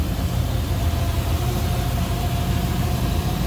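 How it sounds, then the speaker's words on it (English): A 1957 Chevrolet Bel Air's V8 engine idles evenly throughout, a steady low rumble, smooth and unchanging with no revving, heard close by. "nice smooth running V8"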